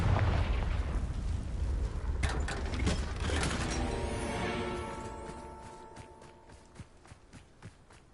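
A Confringo spell explosion in the Hogwarts Legacy video game bursts with a loud crackling blast, followed by scattered debris clatter and rumbling that gradually fades over several seconds.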